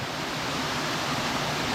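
Waterfall roaring steadily from its top ledge deep in a forest, a dense, continuous broadband rush of falling water that stays loud and unbroken throughout, with no voices.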